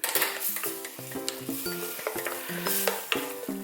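Freshwater snails stir-fried in perilla oil over medium heat, a steady close sizzle under rhythmic scraping and clinking of a utensil against the pan, with no voices.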